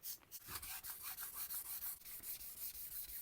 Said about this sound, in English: So this is the 2000 grit. I also got my wooden block,